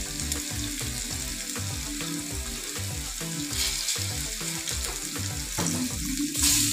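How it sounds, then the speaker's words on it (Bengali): Potatoes fry in oil with salt and turmeric, a continuous close sizzle and crackle riding over a regular low rumble, with occasional louder spits toward the end. "আলুগুলোকে ভালো করে ভেজে নেব।"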